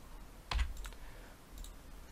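Soft keystrokes on a computer keyboard while entering a material name in 3D rendering software, a short burst of clicks followed by a few fainter taps, close and quiet, with no talking.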